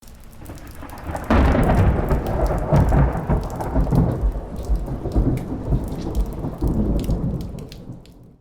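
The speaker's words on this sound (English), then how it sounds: "Then Jack notices a storm in the distance and decides they should head back." A thunderstorm builds in the distance: steady heavy rain pours down with low thunder rumbling and rolling throughout, loud and close, with no voices.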